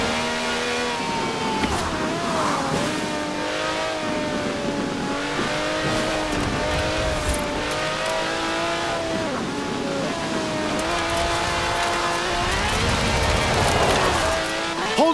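A V12 car of over 750 horsepower drifts in Forza Horizon 4, its engine revving and wavering between gears while tires squeal through long slides, loud and continuous for about fifteen seconds.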